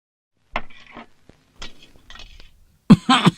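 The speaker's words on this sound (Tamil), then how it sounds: "ஐயோ, எப்பவும் இருமல் வருமா?" A few rough, hacking smoker's coughs close by, spaced out with short pauses, ending in a louder, harsher burst.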